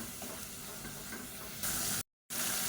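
Ground onion paste fries in hot oil in a pan for biryani, giving a steady close sizzle and hiss that swells louder near the end before a brief dropout, with no talking.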